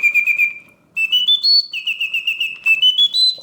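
A vintage Reuge singing bird cage automaton whistles mechanical birdsong: clear, loud trilling and sliding chirps in repeated phrases, with a brief pause near the start, alone and without talk.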